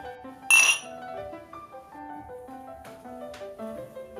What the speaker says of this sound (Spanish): quisiera hacer un brindis por esta velada